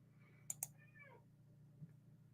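A single faint, drawn-out meow from a cat, preceded by two sharp clicks, in an otherwise quiet room.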